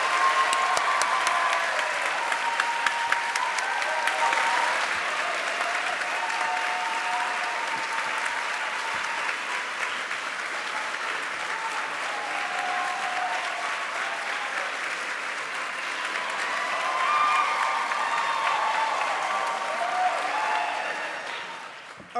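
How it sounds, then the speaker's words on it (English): Sustained audience applause welcoming a visiting artist at an art school lecture, a dense, steady roar of many hands clapping that holds for over twenty seconds with no voices on top. "greet Dred with a thunderous homecoming, a round of applause that he will not soon forget"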